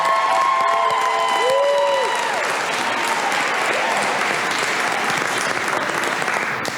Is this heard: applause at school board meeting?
yes